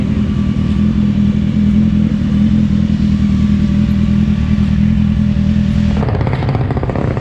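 A Kawasaki ZX25R motorcycle is ridden on the way to work, its engine a loud steady drone mixed with wind rush, the tone shifting abruptly near the end.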